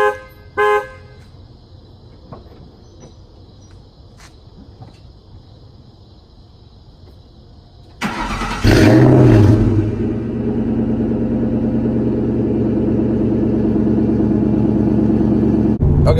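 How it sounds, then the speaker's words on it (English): A Ford Mustang cold start: quiet interior noise, then a sudden crank and catch as the engine fires with a loud rising flare and settles into a steady, deep idle rumble. "Let's get a cold start and let's see how she sounds"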